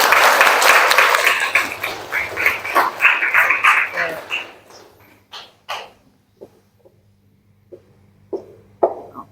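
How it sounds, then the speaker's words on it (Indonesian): Classroom applause for students at a school event, several seconds of lively clapping that dies out, followed by scattered sharp sounds and brief talk in a quiet room. "Beri tepuk tangan."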